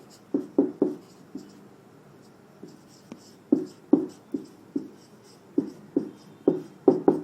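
Marker or chalk strokes on a board in short tapping and scratching bursts, clustered into words with pauses between, close and clear with no talking.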